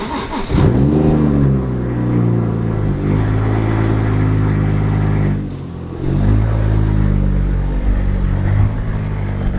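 A car engine accelerates loudly through rising revs, drops briefly as the gear changes, then pulls up again, close and steady.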